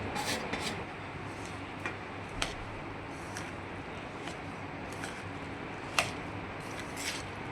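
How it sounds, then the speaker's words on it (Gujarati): Raw mango pickle is mixed with jaggery by hand or spoon, producing soft, irregular rubbing and squishing scrapes with a few sharp clicks, close and quiet, with no voices. "તો ગોળ આવી રીતે મિક્સ કરી દેવાનો બરાબર"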